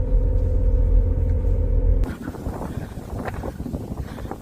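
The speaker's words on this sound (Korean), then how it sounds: "바람이 엄청나게 불어요" Heavy wind buffets the microphone on a mountaintop, a loud low rumble that cuts off after two seconds into a rougher, gusty roar with scattered crackles.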